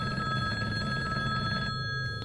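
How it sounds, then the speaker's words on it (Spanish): An old rotary-dial telephone in a hotel room rings continuously, its bright metallic bell steady and close throughout, with a low background rumble underneath. "Sonó el teléfono de la habitación."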